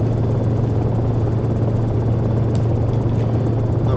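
Cicare 8 ultralight helicopter in X-Plane 11 hovering just above a helipad, its steady rotor and engine drone loud and continuous with a deep low throb throughout and no break or fade.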